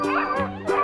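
A domestic dog barks in a short burst of two or three close, loud yips, presented as an example of a farm or household animal's call.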